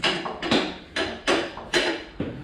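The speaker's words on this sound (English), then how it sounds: "This side we were able to get the hammer on it and tap it and get it out." Sharp metallic hammer taps on a part being knocked loose during engine removal from a 2013 Smart car, about six distinct close strikes in an uneven rhythm, each ringing briefly with shop noise between and no talk.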